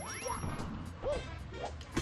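Wooden stake pounded in within a video game: a few short, separate thwacking hits with brief tonal squeaks, spaced unevenly over about two seconds at moderate level with no talking.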